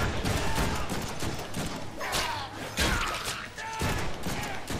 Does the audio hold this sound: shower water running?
no